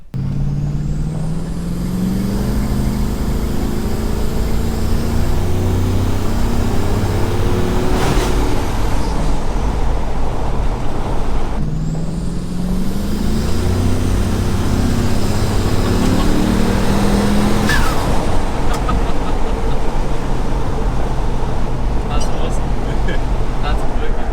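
Car cruising along a road on the way to the hardware store, a constant loud engine and road rumble with two gentle swells as it changes speed, close from inside the cabin.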